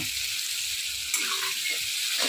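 Potatoes fry in a hot pan with tomato, green chilli, salt and turmeric, giving a loud, continuous close-up sizzle with a few brief stirring scrapes.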